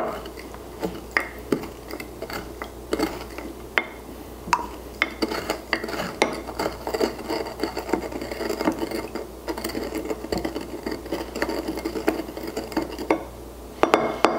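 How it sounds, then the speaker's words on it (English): Sugar cube and orange slice being muddled in a glass for a botanical mocktail, with rapid irregular clinks and grinding taps of the muddler against the glass, close and busy throughout. "I'm going to muddle the sugar cube and press down on the orange slice."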